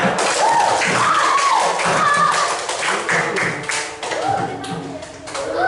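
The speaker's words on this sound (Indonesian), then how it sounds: "Tepuk tangan semuanya." A classroom of students claps their hands together, loud and close, in quick irregular bursts mixed with taps and thuds, while voices chatter and call out over the clapping.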